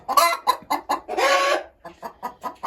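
Roosters cluck close by in a village yard, a rapid series of sharp, loud clucks with one longer drawn-out squawk in the middle, and no talk.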